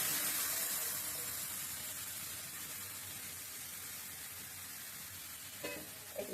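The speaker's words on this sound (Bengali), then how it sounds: "তারপর এই যে গোলা মশলাটা এখানে ছেড়ে দেবো, একটু নেড়ে ছেড়ে দিই" A wet ground spice paste fries and is stirred in a pan, heard as a loud, steady hiss that eases slightly over time, with a couple of scraping knocks near the end.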